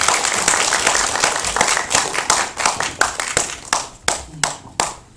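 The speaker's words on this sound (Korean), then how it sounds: "다시 한번 박수 부탁드립니다" An audience applauds cast members taking a bow at a stage event, starting as a dense burst of clapping that thins into a few sharp, separate claps, with light talk underneath.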